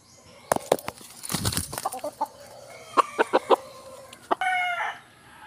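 Fighting-cock breed chickens at a backyard breeder's pen give loud clucks, squawks and short crowing calls, with brief wing flapping, in bursts that come fairly close, without people talking.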